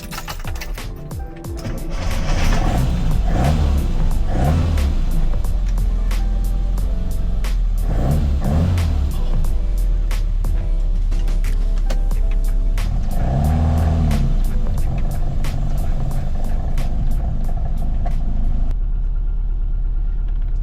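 A classic Mini Cooper drives along with a steady engine drone, rising and falling with gear changes and revs, close and loud inside the car, with faint clicks over the top.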